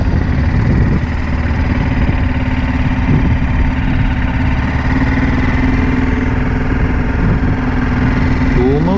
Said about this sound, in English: Cool motorcycle.